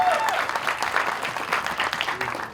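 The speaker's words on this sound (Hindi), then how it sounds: "सरीबाजी के लिए एक बार जोरदार ताली होनी चाहिए।" A crowd claps loudly and steadily at the Border 2 teaser launch event held on Vijay Diwas, a dense, sustained burst of applause filling the whole moment with no voice on top.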